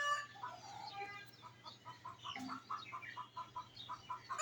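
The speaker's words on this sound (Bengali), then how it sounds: "আর মুরগিগুলি কক করতেছে" Chickens on a neighbouring rooftop cluck in a quick, rhythmic run of short calls, faint and somewhat distant against a low background hum, with no voices.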